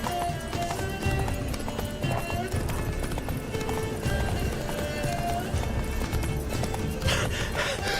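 Hooves of a horse named Roach galloping in The Witcher 3: Wild Hunt video game, a fast continuous clip-clop under game ambience with occasional neighs, fairly quiet and steady throughout.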